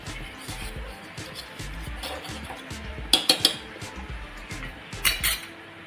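Custard paste goes into a pot and is stirred, with metal spoon scraping and clinking against the pan, a few sharp knocks in quick succession, quiet background shuffling throughout.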